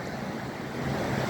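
Stormy sea waves wash and splash against an old harbour quay in a steady rushing roar, mixed with gusting wind noise on the microphone.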